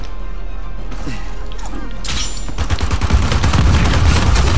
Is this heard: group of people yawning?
no